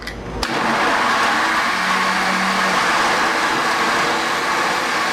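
A blender runs steadily at high speed, whirring and grinding through vegan moqueca ingredients with a few spoonfuls of tomato paste, starting abruptly and staying loud and continuous throughout.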